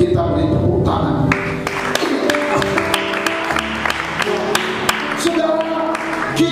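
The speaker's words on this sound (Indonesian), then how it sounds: "Kita beri tepuk tangan." A church congregation claps during a sermon, steady scattered applause under a preacher's amplified voice.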